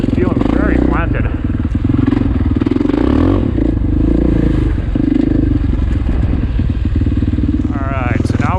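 Husqvarna FE501 motorcycle ridden on single-track trail, engine note steady and close throughout with clattering over rough ground, while a rider talks over it.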